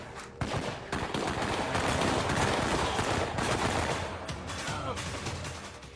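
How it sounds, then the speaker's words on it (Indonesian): Gunfire in an action film shootout, with rapid bursts of automatic weapons firing in quick succession, loud and dense, over a rumbling battle background with brief pauses between volleys. "hingga terjadi lagi aksi tembak-tembakan"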